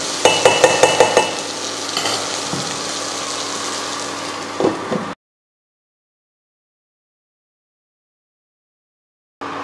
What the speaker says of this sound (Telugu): కాసేపు బాగా కలపాలి దానిపైన మూత పెట్టాలి